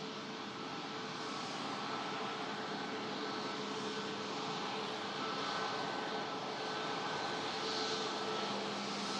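SmartLynx and Norwegian MAX jets arriving at Manchester Airport, one in from Copenhagen, with a steady broadband engine roar that holds constant throughout and no voices.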